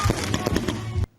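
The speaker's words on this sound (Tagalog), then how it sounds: "Nahimosab nga ingrande ang selebrasyon tungod sa grand fireworks display" Fireworks bursting at a grand Basilan provincial celebration, a rapid run of loud crackling booms and pops for about a second before cutting off abruptly to near silence.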